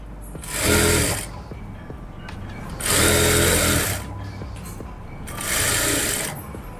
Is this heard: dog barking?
no